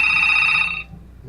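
Old 1980s brick-style mobile phone ringing with a bright electronic tone, loud and close for under a second before it cuts off, leaving a low murmur behind.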